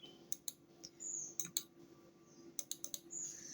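Computer keyboard key presses while using Tally accounting software, a few quick, sharp clicks in small clusters, close and fairly faint, with quiet gaps between.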